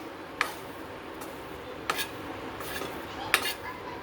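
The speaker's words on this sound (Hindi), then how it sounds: "तो इस तरह से अब हम इसे मीडियम फ्लेम पर चलाते हुए सेकेंगे।" Besan roasting in ghee in a pan over a medium flame, a quiet steady hiss with three sharp clinks of a spoon against the pan spaced a second or more apart, close and with no speech.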